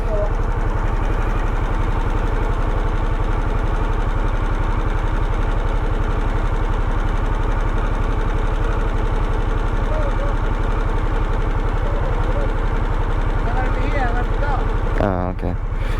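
A Harley-Davidson Sportster 1250cc motorcycle idles in neutral with a loud, steady, close rumbling pulse throughout, while people talk over it and a short rattle comes near the end.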